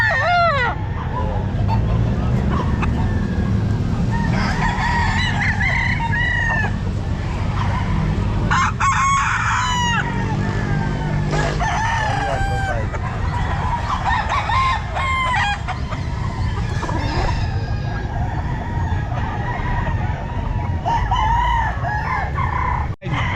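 Roosters crow repeatedly over a busy pet market, several birds calling in overlapping bursts with clucking, close and loud, against a constant low crowd rumble and occasional voices.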